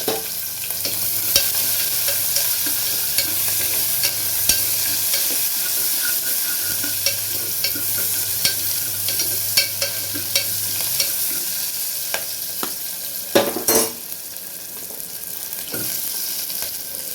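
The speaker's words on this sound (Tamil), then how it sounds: "சாம்பார் தாளிக்கிறது சின்ன வெங்காயம்," Continuous sizzling of small shallots frying for pumpkin sambar, with repeated scraping and clinking as a utensil stirs the pan, close up; a brief louder clatter near the end.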